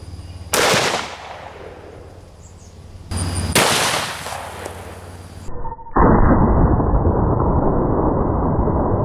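Two loud, sharp magnum pistol shots firing Underwood 325-grain solid copper +P rounds ring out a few seconds apart, each with a decaying echo, followed by a steady loud hiss or rushing noise.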